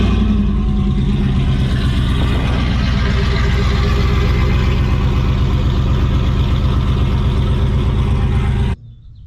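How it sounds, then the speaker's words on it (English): A truck engine cold-starts and runs at a loud, rough idle with a deep throbbing exhaust note after a headers install, steady and close for several seconds before cutting off abruptly. "Let's get a cold start."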